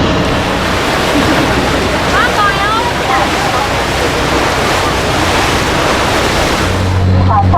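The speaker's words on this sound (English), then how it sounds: "It's time for the 5-minute ferry ride on the northern Han River." Water rushing steadily around a ferry on the northern Han River crossing to Nami Island, with wind noise and engine rumble throughout, plus faint voices and a few bird-like chirps partway through.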